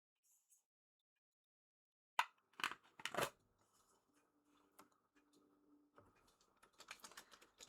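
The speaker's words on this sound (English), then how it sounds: "I wanted to get this one silent, but it's still a clicky fidget." A clicky fidget toy, sold as a silent clicker, gives a few sharp clicks close by. Scattered soft ticks and a quicker run of light clicks follow, all fairly quiet against near silence.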